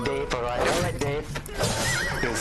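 A horse neighs with a sharp whinny in the strategy game Age of Empires II, alongside clip-clop hooves and other busy game sounds.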